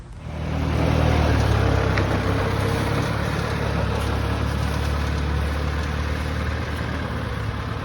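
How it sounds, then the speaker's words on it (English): Vintage car engine with a Holley carburetor and brass and bronze fittings starting up, quickly rising into a loud, steady, rumbling idle close by. "I'll go ahead and I'll fire it up and take it for a ride."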